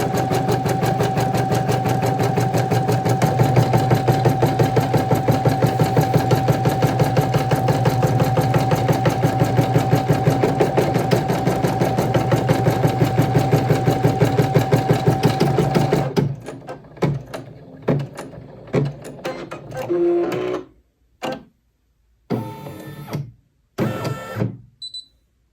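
Brother PE900 embroidery machine stitching an in-the-hoop crochet hook roll, a fast steady mechanical chatter with a constant whine that stops midway, followed by scattered clicks and short rattles.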